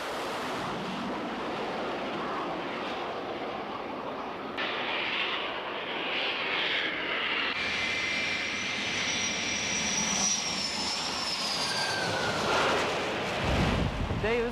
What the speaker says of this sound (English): we have kind of like a slingshot up on the forward part of the ship that shoots the airplane off